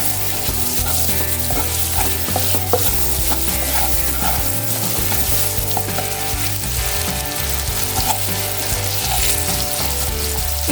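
Shol fish curry masala is stirred in a hot pan while it fries, a continuous loud sizzle broken by the scrape and clatter of the spoon, close up with no talking.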